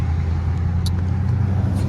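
A Chrysler 300 Scat Pack with a 392 engine and burble tune cruises through city streets, its steady low engine drone continuous and close throughout, with a couple of faint brief high-pitched clicks above it.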